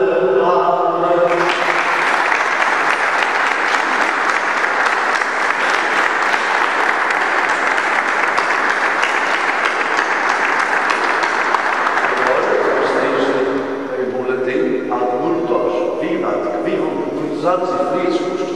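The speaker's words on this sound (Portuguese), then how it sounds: "salva de palmas." Round of applause from the crowd at the Miramar anniversary celebration, steady dense clapping for about twelve seconds, then thinning out as a voice begins speaking over the last scattered claps.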